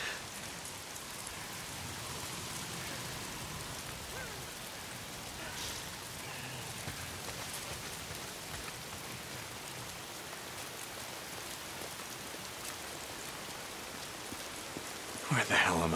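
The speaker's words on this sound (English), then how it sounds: "Why is it always raining?" Steady rain in the video game Days Gone pours down continuously, a dense hiss of drops on surfaces throughout, with a brief louder burst near the end.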